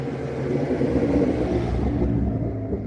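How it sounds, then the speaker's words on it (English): A loud truck passes close by, with a heavy, steady low rumble that eases slightly toward the end. "sorry, loud truck"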